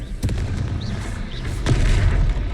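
A Confringo blasting spell goes off in Hogwarts Legacy, a booming burst over a loud rumbling low end, with sharper crackling hits near the middle and a heavier surge toward the end.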